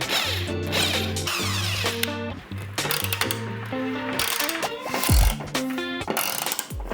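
Repeated ratchet cranking while installing a TV wall mount indoors, a steady run of rapid clicking strokes with metallic ringing between them, close and loud.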